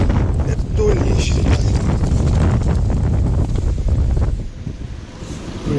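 Strong wind blows across a river during autumn feeder fishing on the Aksai, buffeting the microphone with a steady, heavy roar. The roar eases off in the final seconds.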